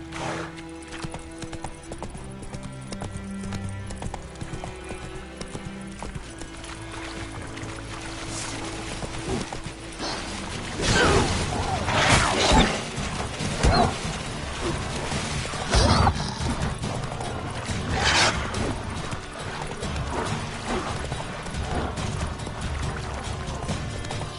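In The Witcher 3 video game, the horse clip-clops along at a steady gallop, hoofbeats rhythmic and prominent over background game sound, growing louder and heavier midway with occasional thumps.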